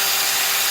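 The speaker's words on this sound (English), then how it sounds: "I'm going to drill a hole" Weak power drill boring a drainage hole in a plant pot, a steady high whine and hiss held throughout, close and fairly loud with no voices over it.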